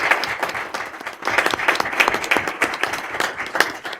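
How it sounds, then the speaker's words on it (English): At a school committee meeting, a room of people gives a round of applause, with scattered individual claps that swell and ease over several seconds. "How about a round of applause for all of our students?"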